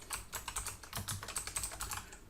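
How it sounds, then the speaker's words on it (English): Brisk typing on a computer keyboard, a quick irregular patter of close, crisp key clicks with short pauses, heard alone and fairly quiet. "I'm going to start typing"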